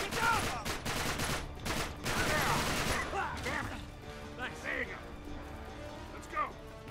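Rapid bursts of gunfire crackle and pop during a firefight in Uncharted: Drake's Deception, loud and dense at first, then thinning into scattered shots under voices.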